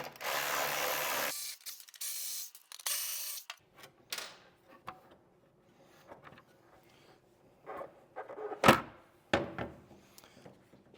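A hand ratchet backs bolts out of a KTM 890 skid plate, starting with a dense, loud burst of rapid clicking, followed by intermittent ratcheting, metallic clunks and a sharp knock partway through.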